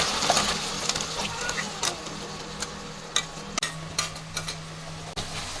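A spoon stirs chicken buttermilk curry in a pot just after green chili paste goes in, giving soft scraping swishes and several sharp metallic knocks against the pan over a low simmer.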